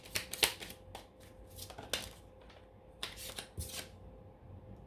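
Tarot cards shuffled by hand before a card is drawn, soft close riffling and flicking bursts with short pauses, faint and alone.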